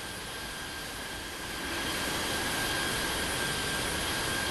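A jet airliner's engines in the Infinite Flight Simulator game roar as a steady, broad hum that swells slightly louder partway through. A thin whine rides on top, and no voices are heard.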